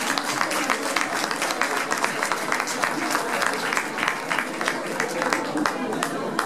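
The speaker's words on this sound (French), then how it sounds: "je vous demande, s'il vous plaît, de leur faire à tous un tonnerre d'applaudissements" Audience applause at a magazine anniversary evening in Beaune, a dense steady wash of many hands clapping at a constant level with faint crowd murmur, no clear voices over it.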